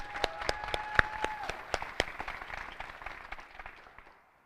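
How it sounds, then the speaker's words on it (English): Applause at a school graduation ceremony, a scattered round of individual claps from a modest audience, fairly distinct hand strikes that thin out and fade away to silence. "she is not here, but let's give her a round of applause."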